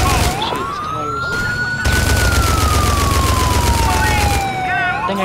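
Police siren wails loudly in GTA IV with the LCPDFR mod during a chase of a fleeing suspect, as gunshots aimed at the tires crack over it in a dense burst near the middle. Voices come through faintly underneath.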